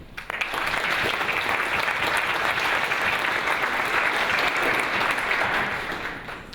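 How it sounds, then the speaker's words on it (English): Sustained, dense applause from a theater audience at a panel on the HBO series The Leftovers, welcoming the moderator; steady and full for about six seconds before tapering off, with no speech. "Please, a warm round of applause for Todd VanDerWerff."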